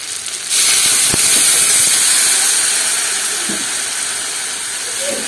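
Water poured into a hot pan of taro stolon curry sets off a sudden loud sizzle and hiss that rises sharply, then gradually settles into a steady bubbling steam, heard up close.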